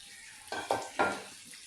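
Chopped chillies and coriander are stirred into frying arbi in a pan, giving three quick scraping, sizzling strokes over a faint background hiss.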